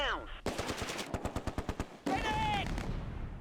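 An MG42 machine gun rattles in the Close Combat video game, firing a rapid burst of about a dozen evenly spaced shots. Loud noisy blasts of other battle sound come just before and after the burst.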